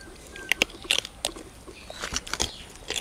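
Malay apple flowers are bitten and chewed up close, giving a series of moist crunchy bites and chewing clicks over a steady outdoor background hiss, without speech.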